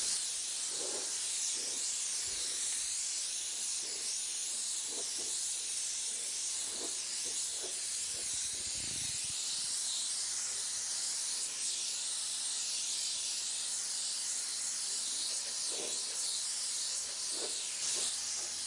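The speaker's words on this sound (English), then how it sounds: "I'm starting to define a little bit more with the touch-up gun." A touch-up spray gun sprays paint for realistic flame artwork, a steady, continuous airy hiss with faint soft clicks and knocks in the background.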